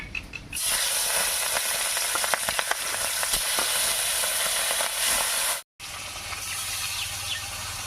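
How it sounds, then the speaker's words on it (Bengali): Fish pieces frying in hot mustard oil in a wok, a loud sustained sizzle and hiss with sputtering crackles, cut by a short break before the frying noise resumes. "এবারে মাছগুলো ভেজে নিচ্ছি"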